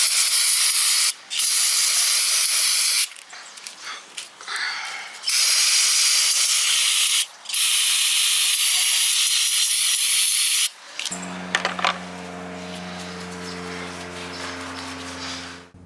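Bursts of aerosol spray hiss in several long blasts with short gaps, close up, cleaning oil pan bolts on a 2001 Jaguar XJR, followed by a tonal hum and clatter near the end.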